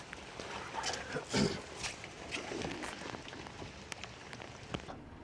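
Steady rain falls outdoors on a layer of ventile cotton jacket fabric, a dense broadband patter with scattered sharper drops and a brief louder gust of splashing midway, no voices present.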